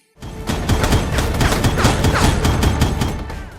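Rapid bursts of gunfire from the video game Foreclosed, a dense fusillade of sharp cracks repeating through the whole moment, loud and up close with no talking over it.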